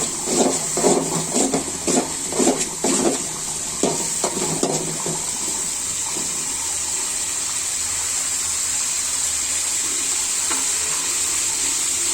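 Mustard paste hits hot mustard oil in a pan with a burst of loud crackling and spitting over the first few seconds, then settles into a steady, softer frying hiss.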